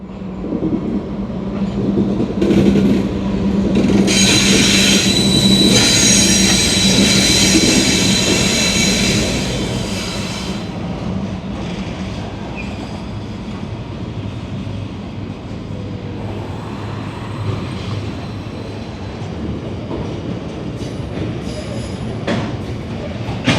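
Two NR class diesel locomotives rumble past close by with a steady, heavy roar and hissing high-end wash that peaks early, then settles into a lower continuous rumble.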